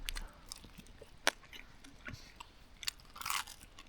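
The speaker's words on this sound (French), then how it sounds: "le pain il est super bon" Crusty homemade bread being chewed outdoors on a camping trip in Quebec, with several crisp crunching bites and quieter chewing scattered through, close and fairly faint.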